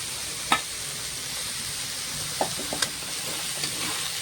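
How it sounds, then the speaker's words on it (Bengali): Chopped fenugreek greens with potato fry in a pan, giving a soft, steady sizzle and hiss. A few scattered scrapes and taps from stirring come through, quiet and close, with no talking. "ভালো করে নেড়ে চেড়ে শাকটা নামিয়ে নেবো।"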